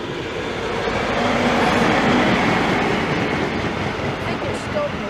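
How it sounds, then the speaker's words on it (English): A Virgin Trains East Coast HST with power car 42206 leading, on the Leeds to London King's Cross service, passes through Peterborough with a loud, sustained rumble and wheel noise that peaks midway and then eases. "the 1335 Virgin Trains East Coast service from Leeds to London King's Cross. This is passing by."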